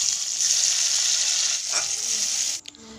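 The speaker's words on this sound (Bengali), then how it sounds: "পেঁয়াজ ভাজা হয়ে গেলে টমেটো কুচিগুলো দিয়ে দেব" Chopped tomatoes going into onions frying in fish oil, a strong steady sizzle with a stirring scrape near the middle, then the hiss suddenly drops away near the end.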